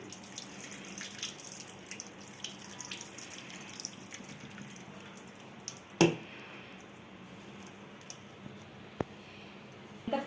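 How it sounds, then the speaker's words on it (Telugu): Soaking water is poured off soybeans in a quiet, trickling, splashing flow with a sharp knock or clatter midway and a couple of small clicks later. "ఇప్పుడు ఈ వాటర్ అంతా వంపేసుకుందాం"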